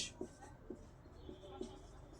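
Names being written on a board, a few short scratchy marker or chalk strokes in quick succession, close and quiet, with a voice speaking alongside.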